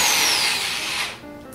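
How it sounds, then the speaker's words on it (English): A power drill whirs loudly as it bores a hole in an Altoids tin, its pitch sliding downward before the motor eases off. "I drill the hole for the USB connector"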